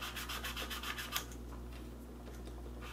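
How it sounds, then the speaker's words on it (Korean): Soft, quick back-and-forth scratchy rubbing as a fingertip presses and rubs the flattened end of a plastic drinking-straw reed for a taepyeongso, close and quiet against a low steady hum. "이 끝부분을 손가락 끝으로 눌러준 채로 좌우 비벼줍니다"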